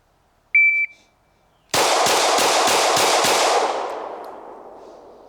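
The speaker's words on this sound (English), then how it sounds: "Same thing, simple 6-round bill drill." A pistol fires six rapid shots in a bill drill at an outdoor range, preceded by a short shot-timer beep. The sharp, evenly spaced reports ring out loud and close, with echo trailing after the last round.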